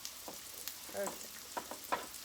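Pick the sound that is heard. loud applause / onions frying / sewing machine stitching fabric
onions frying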